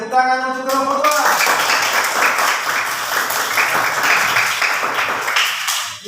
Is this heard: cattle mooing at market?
no